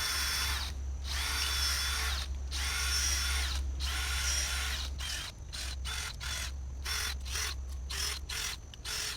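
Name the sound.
power drill making planting holes in garden soil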